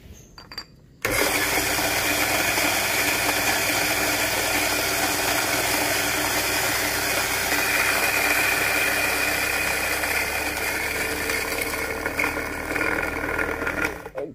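Panama Geisha coffee beans are ground in an electric grinder, starting abruptly after a second of quiet and running as a loud, continuous whirring, grinding drone for the rest of the clip.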